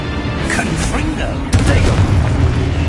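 A fiery Confringo spell blast from a video game hits about halfway through as a deep, booming burst, preceded by a busy rumbling background with voices talking.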